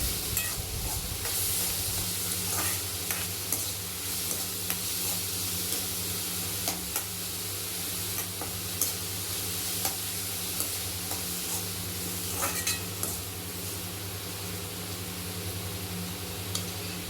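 Tomatoes with salt sautéing in a pan, a steady close sizzle and hiss running throughout with occasional light stirring scrapes, under a constant low hum.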